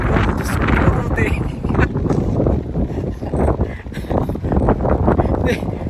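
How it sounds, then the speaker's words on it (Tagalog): Strong wind buffets the microphone with heavy rumbling gusts, while a person talks over it. "Ay, malakas na ng hangin"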